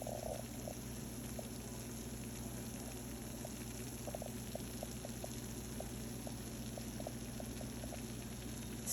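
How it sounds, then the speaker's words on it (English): Faint bubbling and soft popping crackle from baked mac and cheese fresh out of the oven, small irregular pops over a low steady hum. "Fresh out of the oven. You can still hear it sizzling."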